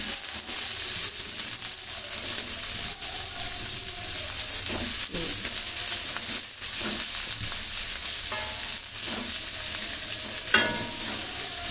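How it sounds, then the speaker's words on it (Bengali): Two large chopped onions fry in a pan, giving a constant close sizzle with repeated scraping and stirring knocks throughout and no speech. "এখন পেঁয়াজটাও একটু ভেজে নেব"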